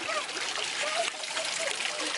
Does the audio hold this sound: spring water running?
yes